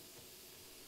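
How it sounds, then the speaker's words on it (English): Hamburger patties laid close together in the center of a hot grill, sizzling with a steady, faint hiss and crackle that stays continuous throughout, with no talking. "Can already hear them sizzling up."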